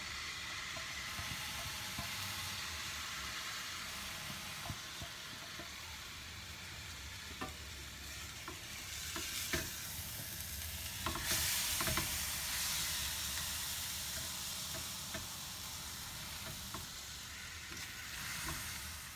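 Risotto with tomato purée and shallots stirred in a pan over medium heat, giving a steady low sizzle and hiss with soft scraping strokes throughout, and a few sharper clicks partway.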